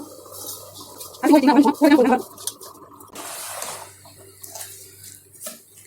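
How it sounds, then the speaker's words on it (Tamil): Water poured onto basmati rice in a pot while making chicken biryani: a short, close splashing pour lasting about a second, with a person talking in the quiet kitchen around it. "அப்படியே போட்டுட்டு நம்ம தண்ணி ஊற்றிக்கலாம், எவ்வளோன்னு அளந்து ஊற்றிக்கலாம்"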